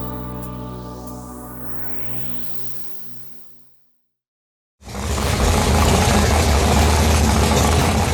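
A race car engine prepared at a race shop drones with a steady harmonic note that sweeps and fades to a brief silence, then bursts back as a loud, rough, sustained roar at full revs.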